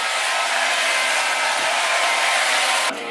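A hair dryer blows heat onto freshly dyed hair, a loud steady close-up roar that stays constant for a few seconds before dropping in level at the end.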